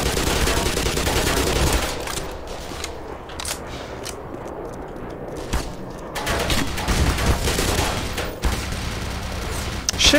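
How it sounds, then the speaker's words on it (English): Gunfire from enemies in the video game Black Mesa, loud continuous rattling bursts that dominate the mix and ease off briefly in the middle before returning. "Shit, it's still shooting me!"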